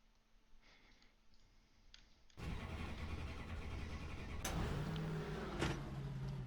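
A race car in the iRacing sim at Kern Raceway starts up, first a quiet mechanical hum and clicks, then a steady engine drone that builds in loudness with a short sharp burst.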